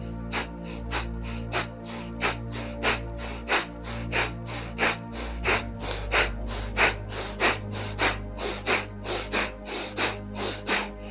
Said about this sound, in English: now you just add the breath of fire